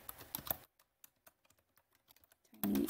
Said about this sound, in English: I'll type it here as well